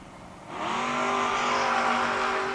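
Drag racing cars, a Ford Maverick against a Chevrolet Camaro, roar off the line at a strip, engines surging from a quieter idle into a loud, rising, sustained wail of acceleration.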